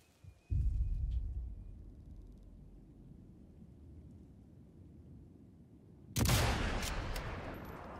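Two heavy gunshot blasts in a sniper battle video game, the first booming and rumbling away into a long tail, the second arriving several seconds later, loud and close with no voices.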